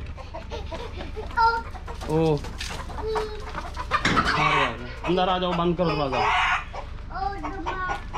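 Chickens cluck and squawk repeatedly close by, with a rooster-like call mixed in, while people talk over them.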